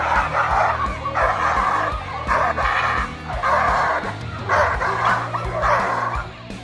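A Dogo Argentino barks repeatedly in a steady rhythm, about six loud close barks with short pauses between, with some low background noise.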